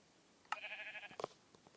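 A single sheep in a Minecraft-style video game gives one clear, nasal bleat lasting about half a second, followed by a few faint clicks against a quiet background.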